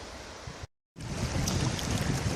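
A river flows steadily nearby in the Scottish wild, a constant broadband wash of rushing water, briefly cut to silence before resuming.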